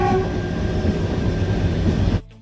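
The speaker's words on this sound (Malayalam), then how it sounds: "ഉച്ചയ്ക്ക് ഏകദേശം 12 മണിയോടെ ട്രെയിൻ പതിയെ മുന്നോട്ട് നീങ്ങിത്തുടങ്ങി." The Kalka-Shimla toy train starts to move: a loud, close low rumble and rolling rail noise with a brief horn tone at the start, which cuts off abruptly near the end.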